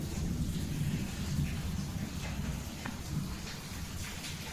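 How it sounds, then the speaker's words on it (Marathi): Rain falls steadily outside at night, a soft, distant hiss with a low rumble of thunder underneath, fairly faint and continuous, with no clear talk. "बाहेर पाऊस चालू आहे."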